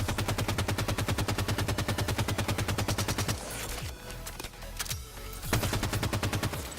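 Rapid automatic fire from an SMG and an assault rifle in Halo 5, a long steady stream of close, loud shots, then a pause with scattered bursts before another sustained volley.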